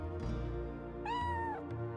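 A cat meows in the Chrono Cross video game: one clear, drawn-out meow with falling pitch over steady game music, no talking.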